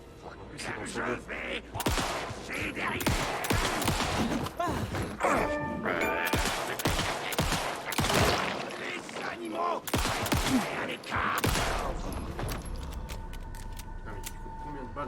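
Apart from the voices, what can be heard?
gunshots in video game Alan Wake II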